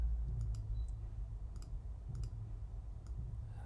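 Computer mouse clicking while working in Adobe Illustrator, several crisp quiet double clicks scattered at irregular intervals over a low steady room hum.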